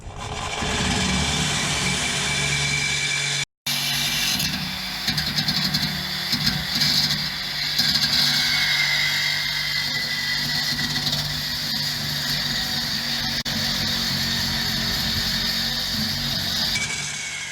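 A New Edge Ford Mustang GT with a Borla Atak exhaust runs steadily, a loud continuous engine drone with a short break near the start and a slight rise in revs, close up and without talk.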